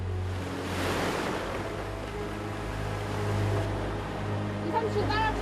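Waves break and wash along the rocky Jeju shoreline where women divers work, a steady roaring surf with gusts of wind buffeting the microphone, close and loud throughout.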